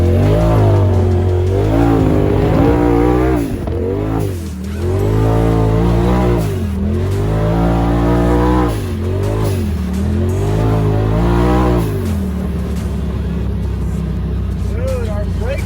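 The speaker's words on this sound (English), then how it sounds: "Blow-off valve just sounds insane." A Polaris RZR Turbo XP side-by-side revs hard, its engine note surging and dropping in repeated waves, with the turbo blow-off valve venting between pulls; loud and close, with voices under the engine noise.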